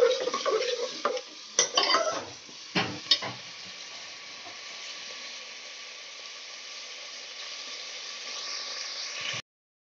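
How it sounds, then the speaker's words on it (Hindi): Chicken pieces frying in a pan for aloo chicken kofta, a steady soft sizzle opened by a few clinks and stirring scrapes of a utensil against the pan. "चिकन हमारा फ्राई हो रहा है"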